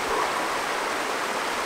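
Steady broadband rush of a brook's flowing water, constant and fairly soft, with no voices over it.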